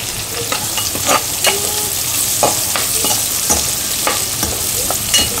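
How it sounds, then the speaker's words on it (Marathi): Curry leaves crackling in hot oil in a pan for masala bhindi, a loud continuous sizzle with frequent sharp pops and spatters, close up and without voices. "आता मी ते टाकते कढीपत्ता।"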